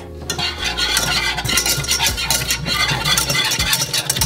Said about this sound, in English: we gotta constantly whisk until a nice blonde roux forms